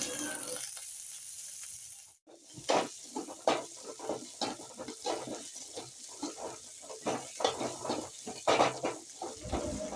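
Spices with poppy seeds roast in a dry pan, a quiet crackle and sizzle broken by repeated stirring scrapes in an uneven rhythm after a short pause, close and fairly faint.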